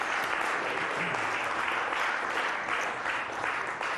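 Sustained applause from a poker tournament crowd, a dense steady clapping that holds at even loudness throughout with no voices standing out.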